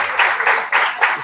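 Audience applause at a youth parliament national finals event, a short burst of steady clapping from a crowd indoors, even and moderately loud with no voices over it.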